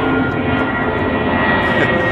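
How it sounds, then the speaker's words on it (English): Airplanes fly overhead beside a riverbank where pike are being fished, producing a loud, steady engine roar that fills the whole stretch with little change in level. "Sorry about the planes."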